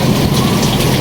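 A brief burst of heavy rain over Baseco in Manila, loud and constant, a thick unbroken wash with no other sound standing out.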